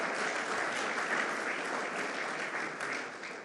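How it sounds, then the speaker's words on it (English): Sustained applause from a crowd at the grand opening of Rivers Casino and Resort in Schenectady, honoring two senators, a dense steady roar of many hands that fades slightly at the end. "Let's give them a round of applause."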